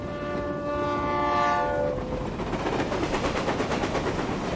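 A train horn blares in a steady sustained blast in the video game Reverse: 1999, then gives way to the rhythmic clatter of the train running along the rails, loud and close with no talk.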